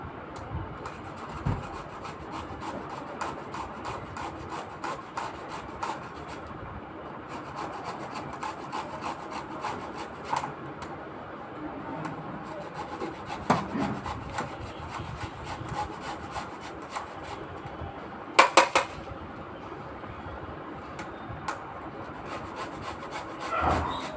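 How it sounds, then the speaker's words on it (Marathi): Steady rasping strokes of an ingredient being grated on a kitchen grater for halwa, rhythmic and close, continuing for the whole stretch with a few louder knocks. "चला आता किसून घेऊया आपण मस्तपैकी."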